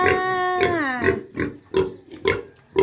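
A native pig grunts and snorts in a rhythmic series of close, loud bursts, one drawn-out pitched squeal near the start, with no talking.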